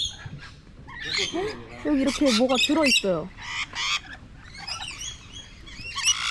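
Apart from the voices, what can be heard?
parrots squawking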